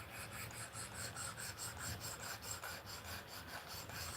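A knife with a canvas green micarta handle being sharpened, quiet rhythmic scraping strokes repeating at an even pace, close and faint, with no talk.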